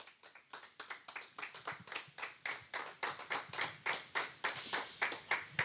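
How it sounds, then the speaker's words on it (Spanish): A church congregation claps together in a steady, rapid rhythm, many hands beating close and loud for several seconds without any voices. "Denle un aplauso a Dios por eso."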